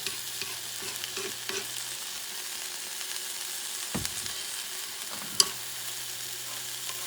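Bison bacon fries in a small amount of ghee on a cast iron pan, a steady soft sizzle running throughout with occasional faint scrapes and clicks, heard close and alone.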